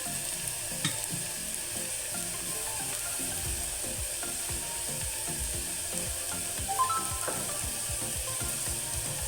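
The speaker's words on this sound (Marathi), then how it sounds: "आता कांदा आहे ना आपला व्यवस्थित फ्राय होतो तसंच परतून घेत राहायचा" Chopped onions sizzling and being sautéed in a pan for chana masala, a steady close frying hiss with repeated scraping stir strokes of a spatula, no talking.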